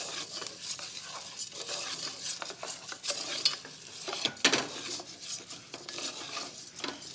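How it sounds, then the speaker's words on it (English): Short grain arborio rice stirred in hot fat in a pan, making a continuous close scraping and rustling with soft sizzling and occasional utensil clinks against the pan, with no talking. "our short grain arborio rice goes in. And we're going to coat this rice in flavorful fat"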